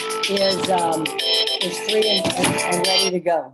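A mobile phone rings with a loud, melodic tone of repeating notes at a membership meeting, while a person speaks over it.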